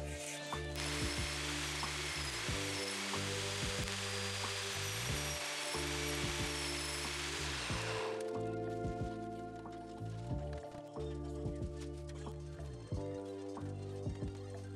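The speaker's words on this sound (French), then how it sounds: "on trace la ligne de coupe à la craie avant de passer au disque de coupe" A cutting disc slices through an insulation panel during a home renovation. A steady, loud abrasive hiss runs for about eight seconds over continuous background music, and the music carries on alone afterward.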